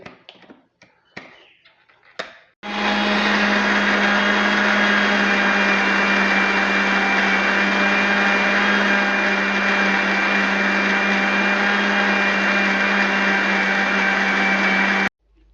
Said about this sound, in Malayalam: മാങ്ങ ആഡ് ചെയ്ത് കഴിഞ്ഞിട്ടുണ്ടെങ്കിൽ നമ്മൾ മിക്സി ഇട്ട് അടച്ച്